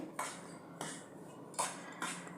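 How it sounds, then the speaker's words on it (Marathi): A spoon scraping and tapping in a bowl while mixing poha papad flour with spices, four short clinking strokes at an uneven pace, close and fairly quiet, with no talking. "आता हे आपण सगळं पिठामध्ये व्यवस्थित मिक्स करून घ्यायचं आहे"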